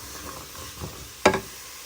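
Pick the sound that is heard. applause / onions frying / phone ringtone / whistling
onions frying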